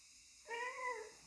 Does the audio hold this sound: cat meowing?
yes